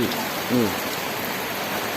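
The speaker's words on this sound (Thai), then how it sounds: "ฝนตก" Rain falls steadily as a dense, even hiss, with a brief voice-like sound near the start.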